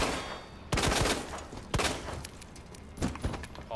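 Gunshots ring out in a Resident Evil 2 zombie fight: three loud, sharp bursts spaced about a second apart, the last a quick double, with quiet gaps between.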